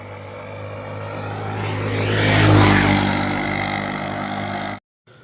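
A vehicle drives off-road near Khuzdar, Balochistan, its engine droning loudly and swelling to a peak midway before easing, with rumbling wind and road noise, then cutting off abruptly near the end.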